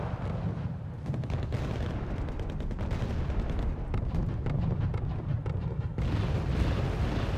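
Artillery and mortar fire in the video game Wargame Red Dragon, including M270 rocket artillery, rumbles as a dense, continuous barrage of booms and crackling impacts without pause.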